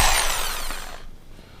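A power drill in normal (not hammer) mode whines loudly as it bores into a computer case, then winds down and fades away within about a second.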